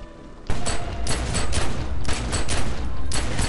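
Dense, continuous gunfire rattles loudly in the video game The Secret World, with rapid repeated bursts and no talking.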